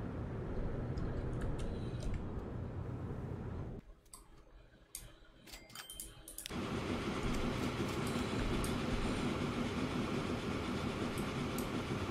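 A tram in the video game Transport Fever 2 rolls past with steady rumbling and clicking rail noise, briefly dropping to quiet before the loud rolling sound returns.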